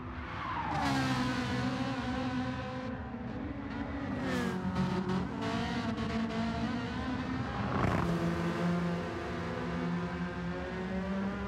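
Volkswagen Beetle race car in Gran Turismo 7, engine droning and revving steadily through gear changes with brief tire squeal and skidding, loud and continuous with no talk.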